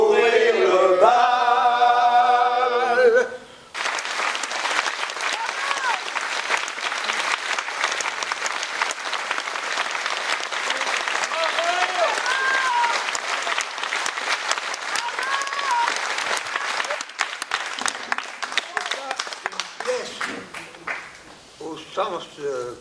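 Sustained audience applause at a live reading event in Paris, a dense field of many hands clapping that follows a brief burst of music and continues steadily for most of the span before tapering off.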